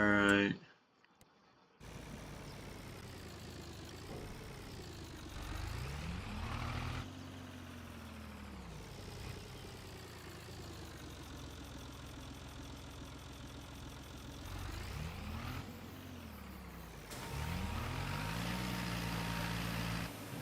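Tractor engine in Farming Simulator straining under a heavy load, a continuous low drone whose pitch sags and climbs again several times, steady and close throughout after a brief opening burst.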